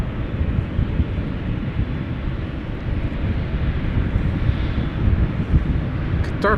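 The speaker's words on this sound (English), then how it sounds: "Qatar Cargo flight 8206, which will be returning to Doha in a few moments. It's a 777 freighter" A Qatar Cargo Boeing 777 freighter at Amsterdam Schiphol gives off a loud, broad, steady jet engine roar that holds without a break, with wind buffeting the microphone.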